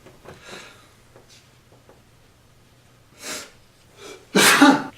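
Soft sniffs and small breaths lead up to one loud, close sneeze near the end, with quiet rustling in between.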